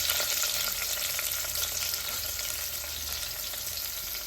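Sliced onion sizzling steadily in hot coconut oil in a cooker, a loud continuous frying hiss with faint stirring, no voices.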